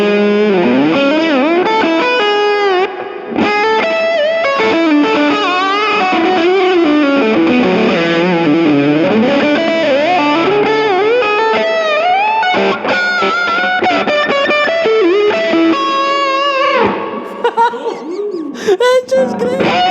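A distorted 1980s electric guitar plays a long, loud passage with sustained notes, bends and sliding pitches, gritty and close.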